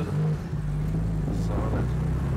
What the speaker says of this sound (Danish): Så er det et hjulspind. Vi hører den lyd.